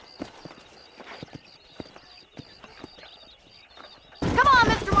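Steady horse hooves clip-clopping at a walking pace in Red Dead Redemption, with a few scattered louder thuds, before a burst of broadband noise cuts in near the end.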